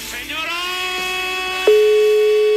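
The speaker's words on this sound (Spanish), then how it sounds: "Está sonando el teléfono." A telephone call goes unanswered. A loud, steady electronic tone starts partway through and holds, following a stretch of fainter tonal sound with a voice in it.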